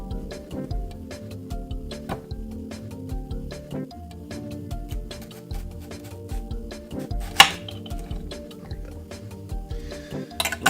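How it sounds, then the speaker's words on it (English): A kitchen knife chops an onion on a board in quick, regular, close taps, with occasional louder knocks and a low background hum, no voices. "I'm going to chop up this onion real quick"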